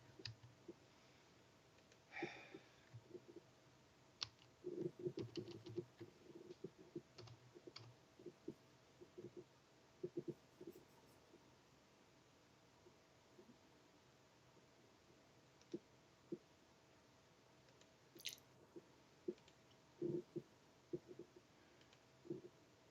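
A computer keyboard gives scattered, irregular clicks and taps, quiet and close, with gaps of near silence in a still room.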